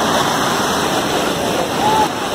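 Water rushes with force through Bhushi Dam, a steady, loud, broadband roar that fills the whole clip with no pauses.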